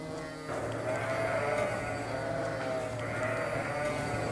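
Basco-Béarnaise dairy sheep on a cheese-making farm bleat loudly and close by, one long wavering call starting after a brief pause and carrying on to the end, with more of the flock audible beneath.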